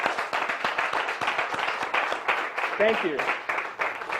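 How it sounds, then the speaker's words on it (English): Audience applause for presenters at a talk, a spread of individual claps from a modest crowd under a speaking voice that offers brief thanks. "if we can give them a round of applause"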